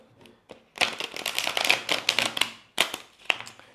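Cards are shuffled in a dense, fluttering burst of rapid clicks, preceded by a few soft taps and ending in scattered snaps.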